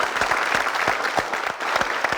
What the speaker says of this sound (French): Les gars, on va applaudir pour tout cela aussi également.